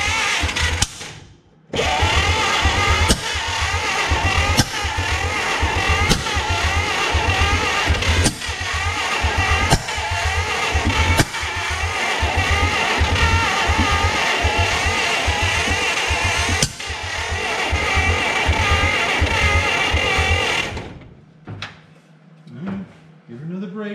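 An abandoned 1950 Dodge pilothouse truck engine runs roughly with rapid pulsing firing, loud and close, revving unevenly for about twenty seconds before cutting off abruptly, followed by brief quiet noise.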